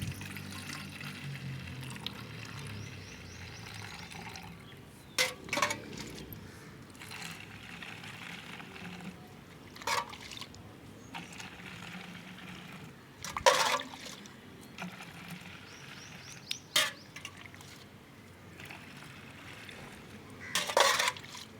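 Watery mixture being poured into a container, a steady trickling fill with several sharp splashy bursts, close by and moderately loud, with no talk.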